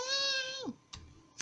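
A single drawn-out cat meow from the video game Angel of Death slides downward in pitch and fades. A couple of soft clicks follow in the quiet afterward.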